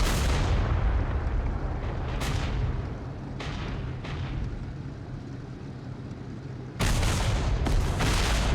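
Heavy booms from a Tiger I tank's cannon in a Kursk battle game blast out, followed by long rumbling decays, with a second loud shot near the end.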